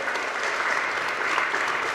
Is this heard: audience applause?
yes